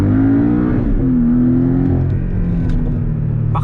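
Porsche Cayman 718 with a four-cylinder 300 hp engine revving, a loud, steady droning note with shifting pitch, close and continuous throughout, no voices.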